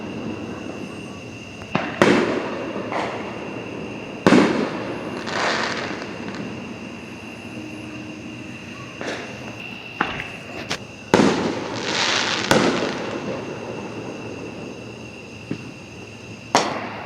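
Fireworks burst at irregular intervals, sharp loud cracks and booms with short rumbling tails, some near and some more distant, over a steady low background hum during a night that also has lightning.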